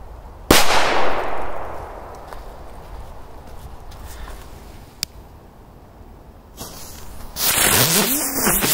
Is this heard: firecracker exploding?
yes